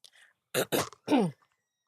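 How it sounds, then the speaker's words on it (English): A few harsh, rough coughs close to the microphone, one after another, with a faint breathy sound before them and no talking. "my coughing is making me tear up"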